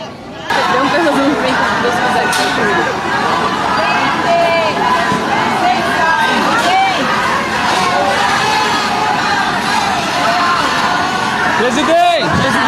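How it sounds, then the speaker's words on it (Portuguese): A large crowd of protesters shouts slogans against the president as he arrives, a loud, dense and continuous babble of overlapping voices and cheers with some nearer shouts, lasting more than twelve seconds. "um grupo maior de opositores, que gritaram palavras de ordem contra o presidente enquanto ele desembarcava"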